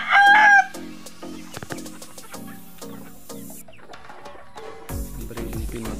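Gamecock roosters in breeding pens, five months old, give a loud crow at the start, followed by steady repeated clucking and scattered bird calls, with a rustling pen bustle building near the end.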